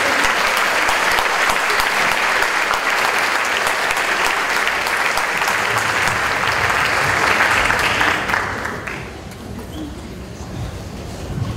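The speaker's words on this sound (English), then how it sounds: "Give him a round of applause." A school district audience applauds to welcome a keynote speaker, loud sustained clapping that fills most of the span before tapering off near the end into quieter room sound.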